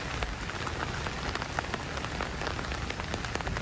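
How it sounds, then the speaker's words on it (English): Steady rain falls on a boatyard in Panama during the rainy season, a dense continuous patter with scattered sharper drops, close and fairly loud, with no voices. "and it's raining."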